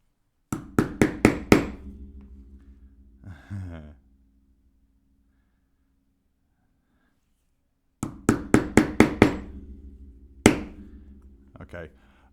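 A stitching maul strikes a leather stitching chisel on a leather handbag, starting at a corner. Sharp, close knocks land in quick bursts of five or six, separated by pauses and a few single taps.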